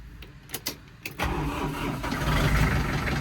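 A tractor on an Australian banana farm cranks over with a few clicks, then its engine catches and settles into a steady, close, loud running rumble.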